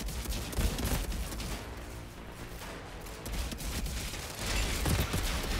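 Gunfire from a long-range shotgun in the video game Outriders: bursts of booming shots over a dense, noisy battle mix, moderately loud with surges of blasts.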